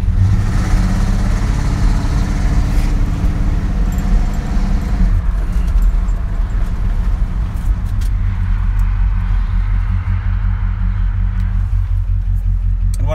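A 1974 Dodge Monaco police car sits idling from a cold start, its engine a loud, steady low rumble that runs unbroken throughout.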